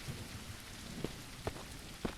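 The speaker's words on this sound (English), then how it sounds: "And finally the rain has stopped." Steady rain hisses over the scene of the Mist Survival game, broken by three or four sharp thunder cracks spaced roughly half a second apart. No voices.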